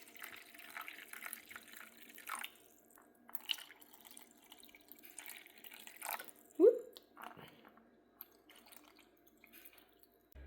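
Chicken and vegetable stock pours from a jug into containers, with faint trickling and dripping and a few soft knocks, quiet and close under occasional speech.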